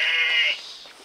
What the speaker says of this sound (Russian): Баран.